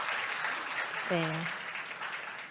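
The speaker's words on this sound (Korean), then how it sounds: "박수 소리가." Audience applause at a conference talk on open-source security risks, a steady broadband patter of clapping filling the clip, with a brief spoken word from the presenter over it.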